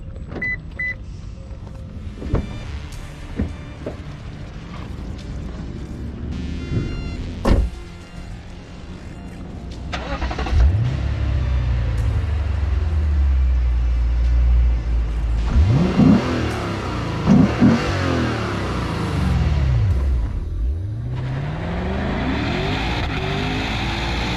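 A 2024 Lexus RC F's naturally aspirated 5.0-litre V8 rumbles at idle, then roars through several hard revs that climb and fall, loud and close, with a brief whir in between.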